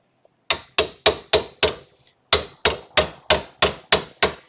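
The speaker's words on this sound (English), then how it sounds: "Just a few taps on there with the dead blow hammer, and got that caliper bolt loosened up." A dead blow hammer taps a brake caliper bolt on a Honda Accord in sharp, evenly spaced taps, five then six after a short pause, loud and close with no voices.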